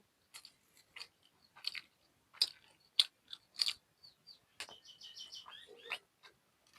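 Someone chews a boiled egg up close in a quiet room, giving irregular soft crunching bites spaced across several seconds, then a run of faint bird-like chirps near the end.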